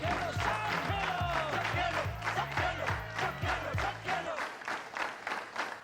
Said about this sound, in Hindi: जोरदार तालियां इन सबके लिए